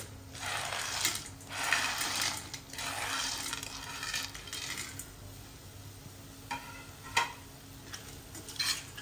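Sandge lentil dumplings stirred and sautéing in roasted masala in a pan, a steady soft sizzle with scraping and clinking of the spoon against the vessel, close and continuous.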